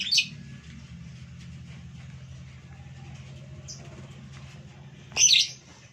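A white-rumped shama (murai batu) gives short, bright chirps near the start and a louder burst near the end, separated by a low steady hum of background noise.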